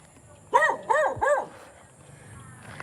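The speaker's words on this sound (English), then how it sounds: "I don't know what he's barking at." Three quick, sharp dog barks in a row, fairly close, followed by quiet background noise.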